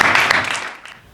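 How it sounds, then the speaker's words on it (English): An audience at a medical fundraiser dinner in San Antonio applauds Dr. Lubna Naeem, a loud burst of clapping that thins and fades away within about a second. "Please give a round of applause to Dr."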